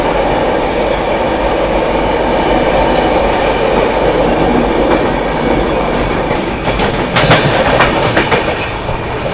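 The Bihar Sampark Kranti Superfast Express overtakes the Vaishali Express at Tundla Junction, with a steady loud rumble and clickety-clack of wheels over rail joints, a faint high squeal, and sharper rattling bursts near the end.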